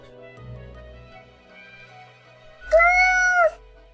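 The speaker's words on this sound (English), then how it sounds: "Meow, the cat meows." A cat lets out a single drawn-out meow late in the moment, loud and close, after a stretch of quiet low rumbling background with no speech.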